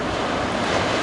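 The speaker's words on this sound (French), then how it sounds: "des vagues qui sont assez rapides, fermantes, mais bon, avec des bouts intéressants qui passent" Ocean waves break at a surf beach, a steady dense wash of surf roaring close and loud without pause.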